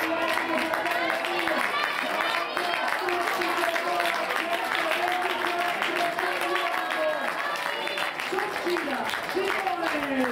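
Crowd at an athletics meeting in Trento applauds through the final stretch of a men's 800 m heat, a dense, continuous patter of clapping mixed with crowd noise, with a commentator talking over it.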